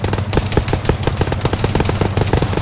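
Rapid automatic gunfire in an Arma firefight with the ShackTac group, a loud close burst of evenly spaced shots hammering steadily for several seconds with no talk over it.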